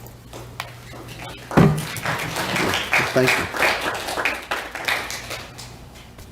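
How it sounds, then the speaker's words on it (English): Applause breaks out at a city council meeting right after a unanimous vote, a steady burst of clapping from the room that rises sharply and holds, with a voice speaking over it. "Hold your applause."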